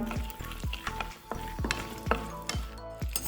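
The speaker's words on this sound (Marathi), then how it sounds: "थोड्या थोड्या तुपामध्ये आपण ड्रायफ्रूट्स भाजून घ्यायचे" Dry fruits such as almonds roast in a little ghee with a soft sizzle under repeated sharp ladle clinks and taps against the pan, roughly every half second, close by and with no talk.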